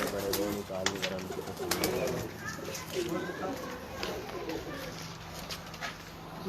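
Pigeons coo softly in low, repeated murmurs, heard under a voice talking and some background bustle with occasional sharp clicks.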